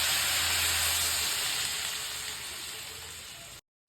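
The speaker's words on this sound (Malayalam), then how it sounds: "അടുത്ത് നമ്മൾ മിക്സ് ചെയ്ത് വെച്ചിരുന്ന സോസ് ഒഴിച്ച് കൊടുക്കാം" Mixed sauce goes into a hot pan with capsicum while cooking restaurant-style gobi manchurian, giving a loud, continuous steamy sizzle and hiss that holds steady and then cuts off abruptly.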